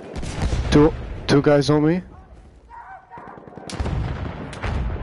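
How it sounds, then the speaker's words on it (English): Bursts of machine gun fire crack through a Battlefield 1 match on PS4, sharp and close, while a player talks over the gunfire. "Machine gun! One of theirs! Machine gun, look alive!"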